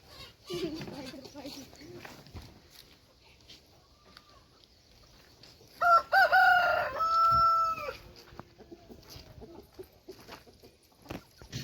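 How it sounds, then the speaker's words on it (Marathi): A large rooster, about 4 kilograms, crows loudly and close by, a long strained cock-a-doodle-doo in the middle, with other fowl clucking around it and some faint talk earlier. "हा सगळ्यात मोठा कोंबडा आहे"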